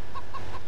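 Hens cluck in a farming simulation game set in rural Belgium, three short even clucks spaced evenly over a steady low engine drone, moderately loud.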